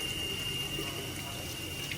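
Cold tap water runs steadily into a sink in an orthodontic setting, a continuous close hiss and splash with no pauses and no talk.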